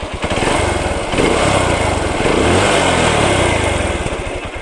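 Close and loud, a Runner Turbo 125 motorcycle engine idles and is revved up and held, its pitch rising and falling before easing back toward idle.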